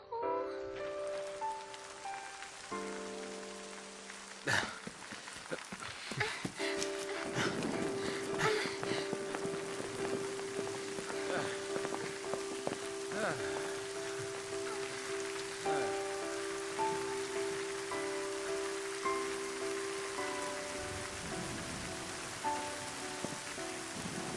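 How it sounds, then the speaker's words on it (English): Rain falls steadily in the video game Final Fantasy XIII, a constant close patter of drops on surfaces lasting throughout, with soft sustained music tones underneath. "When it rains around here, it pours. And then it rains some more."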